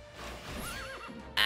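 A horse neighs in the video game Dragon Quest 11: a single close whinny with a wavering, rising and falling pitch, cut off by a sudden bright burst of game sound at the end.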